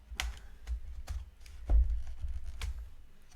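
Plastic seams of a Sony VAIO E-Series laptop case (SVE15128CKW) being pried apart with a card, giving a few sharp close clicks and snaps spaced irregularly over quiet handling noise.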